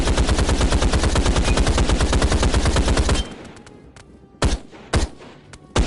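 Video game gunfire: a long, loud rapid burst of automatic shots, then a pause and a few separate single shots.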